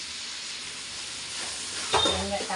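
Tomatoes dropped into a hot pan for a Sunday chicken gravy, a steady faint sizzle that flares into a louder, sputtering fry near the end.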